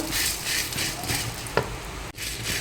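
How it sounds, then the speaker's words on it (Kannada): Coriander seeds and black pepper dry-frying in a pan, a brief steady sizzle with a quick stirring scrape and one small knock, with no talking. "ಈಗ ಕೊತ್ತಂಬರಿ ಕಾಳು ಒಂದೂವರೆ ಚಮಚ ಕೊತ್ತಂಬರಿ ಕಾಳು ಹಾಕ್ಕೊಳ್ಳಿ. ಸ್ವಲ್ಪ ಫ್ರೈ ಮಾಡ್ಕೊಳ್ಬೇಕು."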